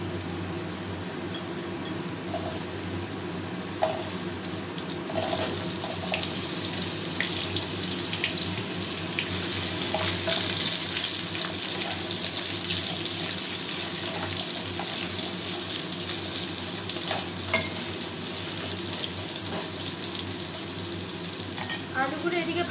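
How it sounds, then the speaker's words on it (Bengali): Potato pieces frying in a pan of hot oil with a spice tempering for aloo posto, giving a steady, soft hiss that carries on without a break at moderate volume. "আলুগুলো এদিকে ভাজা হোক"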